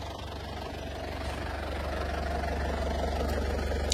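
A used commercial vehicle's engine idles smoothly nearby, a steady low rumble with an even throb that swells slightly louder as it runs.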